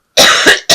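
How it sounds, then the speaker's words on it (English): A person coughs up close, one longer harsh cough followed by two quick shorter bursts, loud and abrupt against silence. "I'm so sorry about this cough."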